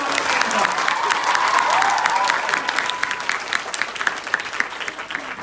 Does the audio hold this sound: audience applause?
yes